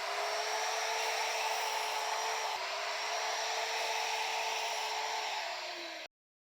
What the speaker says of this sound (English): This is just the cut to cut the board into workable sections.